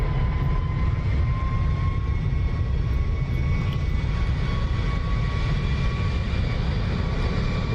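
An SR-71 jet in the DCS flight simulator takes off, a constant loud roaring engine noise with a steady high whine on top, unbroken and close throughout.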